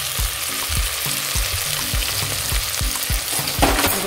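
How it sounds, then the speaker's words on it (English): Food sautéing in butter and roasted garlic olive oil gives a steady, close sizzle, with low thumping utensil stirs and scrapes in an uneven rhythm throughout. "Gonna let this saute in that olive oil."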